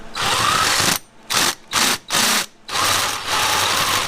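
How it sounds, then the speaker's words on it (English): A power drill whirs loudly in bursts, starting and stopping several times with short pauses, its motor rattling and chattering close by while repairing the tailgate of a 1962 Willys Wagon. "Like that drill that's chattering in here."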